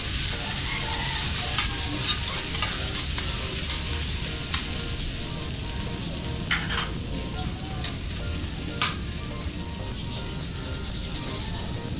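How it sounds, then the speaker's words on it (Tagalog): Ginger sautéing in a hot pan, a steady broadband sizzle running throughout with occasional sharper crackles and scrapes of stirring, close and continuous with no voices. "Yung luya natin or ginger. Gisa-gisa lang ito mga master no, hanggang sa maluto yung mga lamas na to."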